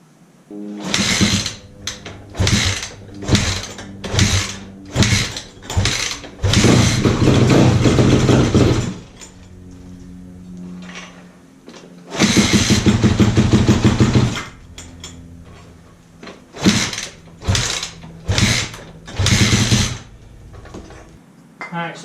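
A 2005 Yamaha YZ250F dirt bike on choke sputters through repeated short bursts as it is kicked and catches. Two longer sustained roars stand out, loud and close, with no talk.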